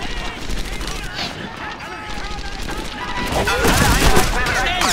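An MG42 machine gun fires in Medal of Honor: Airborne, dense rapid bursts crackling loud and close amid other battle gunfire, with shouting voices mixed in.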